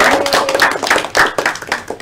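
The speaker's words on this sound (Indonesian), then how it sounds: "Tepuk tangan untuk kita semuanya" Students in a classroom clap their hands together in a lively, somewhat uneven burst of claps, close and fairly loud, with no talking over it.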